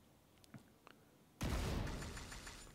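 A grenade thrown in the Destiny video game detonates after a quiet moment broken by a few faint clicks. A sudden loud, deep blast follows and its rumbling roar fades gradually.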